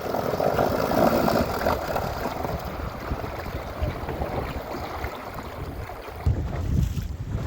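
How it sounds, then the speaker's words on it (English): Sailboat under way in Cowau Bay: a steady, close rush of wind and water noise washes over the microphone throughout, with a brief swell of louder splashing near the end. "And we're sailing, everybody."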